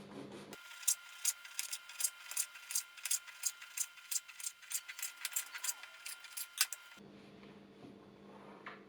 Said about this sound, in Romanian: Luăm foile și le tăiem.